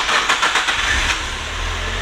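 A Nissan Silvia S15 AUTECH with a naturally aspirated four-cylinder engine and a new exhaust pulses in a few quick rhythmic bursts, then settles into a quieter low idle.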